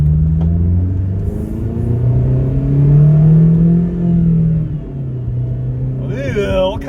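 An 8th-generation Honda Civic Si engine runs and pulls away, its low drone rising and falling through revs close by, with a voice speaking toward the end.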